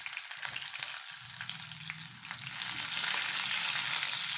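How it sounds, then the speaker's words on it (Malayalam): Red chilies and garlic fry in hot oil with popped mustard seeds and cumin, a steady close crackling sizzle that swells louder toward the end, with soft stirring and no voices. "കടുക് പൊട്ടിക്കഴിയുമ്പോൾ ജീരകം ഇട്ടു, ചുമന്ന മുളകും നമ്മുടെ വെളുത്തുള്ളിയും കൂടെ ഇട്ട് കൊടുത്തു."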